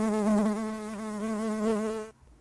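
Bees buzz in a close, steady, reedy drone with a slight wavering pitch for about two seconds, then cut off abruptly into silence.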